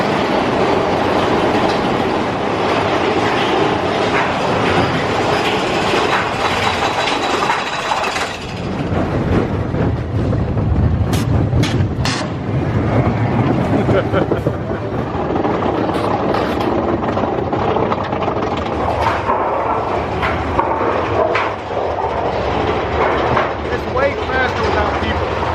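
A Big Thunder Mountain roller coaster train at Disney World rumbles and rattles along its track in a steady loud roar, with wheel clatter and brief squeals, while riders talk over the noise.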